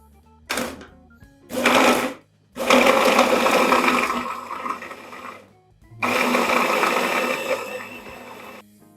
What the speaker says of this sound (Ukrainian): будемо все це перемелювати невеличкими порціями, тому що Сам блендер не є великий